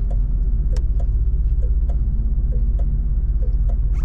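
1982 Mercury Cougar XR7 rolling over a very bumpy, cracked and patched road, a steady low engine and road rumble broken by repeated sharp knocks and rattles from the jolts, close and continuous with no talking.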